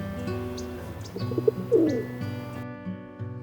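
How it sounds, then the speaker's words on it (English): A pigeon coos softly, a low murmuring call with a louder burst near the middle, set against faint steady background tones. "Pigeon,"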